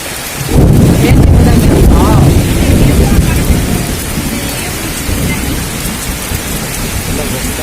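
Heavy rain pours down in a village while thunder rumbles loudly, with a big crack early on and a dense, constant downpour continuing throughout.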